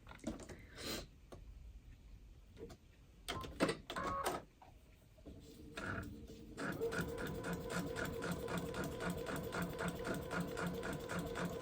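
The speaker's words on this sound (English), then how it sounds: "I'm just going to unfold it and sew that line." A sewing machine stitches a foundation paper piecing line for a quilt, starting after a few soft handling clicks and then running as a steady, rapid mechanical whir with a regular stitching rhythm, close and quiet.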